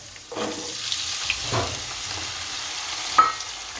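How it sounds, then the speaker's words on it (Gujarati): Diced potatoes tumble into a pan of frying sabudana khichdi with peanuts, giving a steady close sizzle broken by a few scraping stirs and one sharp clink of a utensil near the end. "હવે બટેકા નાખશું"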